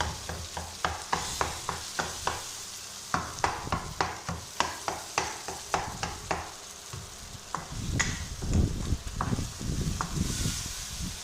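A spoon scrapes and taps through eggplant bharta in a sizzling pan, a run of sharp rhythmic knocks over steady frying, then heavier, thicker stirring sounds toward the end.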